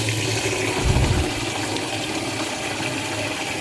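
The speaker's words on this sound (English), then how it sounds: "Let's go get our potable water filled up" Potable water gushing from a tap into a container at a lakeside campground, a loud continuous rushing hiss with a brief surge early on, close by.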